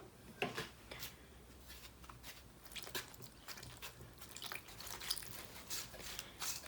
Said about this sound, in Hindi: इसको मैं हाथों से गूंदूंगी